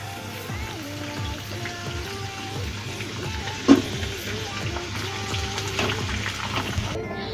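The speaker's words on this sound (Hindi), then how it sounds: "हल्का हल्का फ्राई करेंगे इसको, ज्यादा फ्राई नहीं करेंगे दोस्तों" Drumstick pieces (sohjan) fry gently in oil in a pan for pickle, giving a steady soft sizzle and crackle with a small clink partway through.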